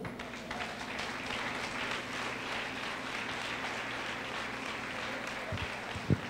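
Steady applause from a church congregation during a sermon, a continuous wash of clapping at moderate volume lasting several seconds, with a brief louder clap near the end.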